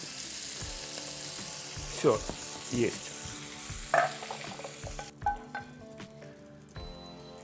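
Shrimp and garlic frying in oil in a pan give a steady close sizzle with occasional stirring clatters, while someone speaks briefly.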